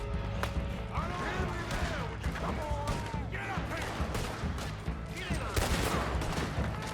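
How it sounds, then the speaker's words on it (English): Dense gunfire in the Western video game Red Dead Redemption 2, rapid overlapping shots and crashes during a chaotic shootout, loud and continuous, with a voice talking over the fighting. "a whole bunch of people are shooting at me"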